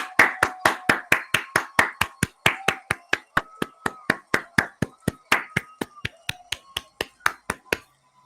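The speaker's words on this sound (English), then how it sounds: "Come on, let's clap it up for all the mothers." One person claps for all the mothers: a steady series of about thirty sharp, close hand claps in a regular rhythm, with a faint voice underneath.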